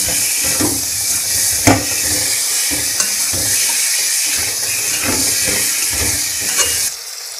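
Turmeric sizzling in hot oil in a pan, a steady hissing fry with repeated stirring thumps and scrapes, close and loud, then cutting off abruptly near the end.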